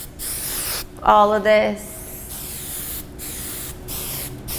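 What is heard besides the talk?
hairspray being sprayed on hair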